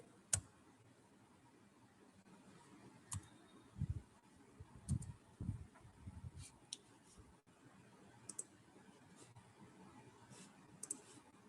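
Quiet typing on a computer keyboard during a class demonstration: a few scattered clicks and short bursts of keystrokes, soft and close, separated by pauses with no talking.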